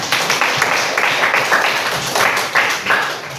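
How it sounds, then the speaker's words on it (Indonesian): Students in a ninth-grade class at a junior high school in Hiliduho, Indonesia clap together, a dense, uneven burst of hand claps swelling and easing over several seconds, close and fairly loud. "Berikan tepuk tangan."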